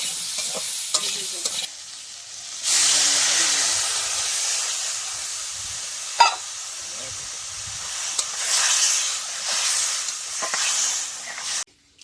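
Water meets a hot pan holding salt and turmeric and sets off a loud, steady hiss and sizzle lasting several seconds, broken by faint stirring clatter, quieter gaps and a sharp knock near the end.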